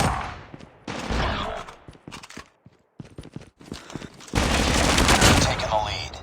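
Gunfire in a Call of Duty Gulag match: bursts of loud close shots and rapid fire crackle in clusters, ending in a sustained dense volley.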